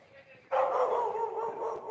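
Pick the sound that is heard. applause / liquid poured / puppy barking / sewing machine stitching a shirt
puppy barking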